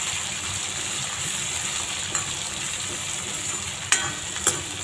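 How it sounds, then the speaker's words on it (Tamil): Chunky-cut big onions sauté in oil in a pan, giving a continuous close sizzle with occasional light clinks and scrapes of a spoon. "அந்த வெங்காயம் வதங்கட்டும்"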